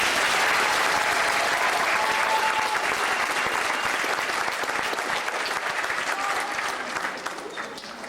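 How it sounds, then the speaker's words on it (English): Sustained audience applause at a middle school awards ceremony, dense and even crowd clapping that carries on for several seconds before thinning slightly at the end. "One last round of applause, please."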